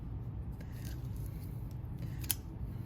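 Scissors cut candy wrap ribbon with a couple of faint, crisp snips against a quiet background hum.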